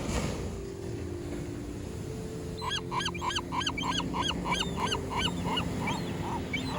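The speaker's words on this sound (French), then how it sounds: "j'ai donné à manger à des mouettes" Seagulls on a Malibu beach squawk in a rapid burst of repeated calls midway through, close and fairly loud over a background wash of surf and wind.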